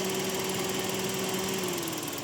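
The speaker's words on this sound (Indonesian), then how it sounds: "ini emang kalau mesin yang dual VVTi itu emang suaranya gini" A 2016 Daihatsu Xenia 1300cc dual VVT-i engine idles smoothly and evenly at close range, a steady hum with no voices.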